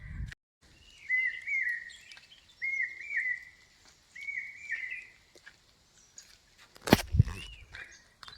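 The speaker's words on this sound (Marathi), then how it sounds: "आत्ता जो पक्ष्याचा तुम्ही आवाज ऐकला असेल, त्या पक्ष्याचं नाव तर मला काय माहीत नाही" An unidentified bird calls in a Konkan village as the rain eases, giving several short repeated whistled phrases at a moderate distance, followed by a brief louder close rustle or clatter near the end.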